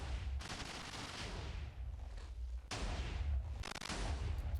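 TNT nuke cannon firing in a block-building video game, a series of loud booming blasts with crackling rumble between them, two main bursts followed by rapid stacked detonations.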